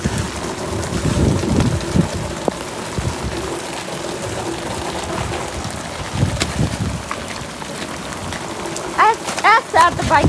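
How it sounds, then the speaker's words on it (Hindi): Heavy rain pours down in a village, a constant broadband hiss of water on surfaces with gusty wind buffeting, while voices come through faintly near the end. "सेम बारिश लगी हुई है"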